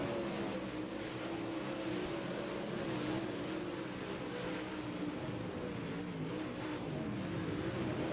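Dirt modified race cars in the iRacing sim roar together as a dense, continuous engine drone, pitches wavering and overlapping as several cars run close, steady and fairly loud with no voices.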